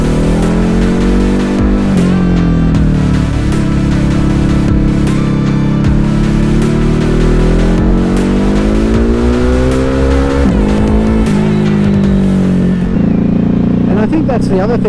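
A Ducati Hypermotard 950 SP motorcycle rides along a winding road, its engine note rising and falling steadily through gear changes as a rider talks over it throughout.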